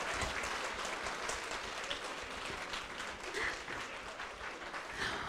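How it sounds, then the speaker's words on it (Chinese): A steady wash of audience applause greets people taking the stage at a thanksgiving celebration event, continuous and moderately loud throughout with no break. "赶快鼓掌鼓掌哈"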